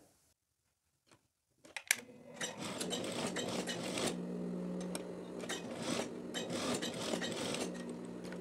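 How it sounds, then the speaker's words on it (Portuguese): An overlock machine finishes the edge of a teddy jacket lapel, running in a steady, dense mechanical whir with a rapid rattle after a few faint clicks at the start. "Fiz o acabamento na máquina overlock e agora vocês percebem que não solta mais pelo nessa parte"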